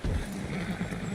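Horse whinnying and galloping in the video game Red Dead Redemption 2, a steady low rumble of hooves and snorting that stays loud and continuous across the short moment, with no clear talk over it.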